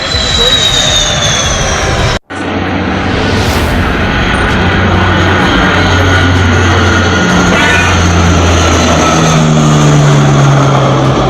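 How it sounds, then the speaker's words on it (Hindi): A Sukhoi fighter jet touches down on the Purvanchal Expressway with a loud, continuous roaring jet engine rumble that holds steady after a brief cut, with a reporter's voice heard over it. "अब फुल फ्रेम में सुखोई फाइटर जेट का टच डाउन देखिए"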